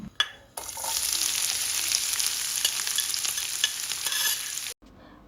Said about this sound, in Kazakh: Майымыз қызған соң пиязды және фаршты салып қуырып аламыз.